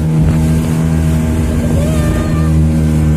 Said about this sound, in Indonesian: speedboat ini. Walaupun ini memang jalannya kenceng, tapi tetap aman kok.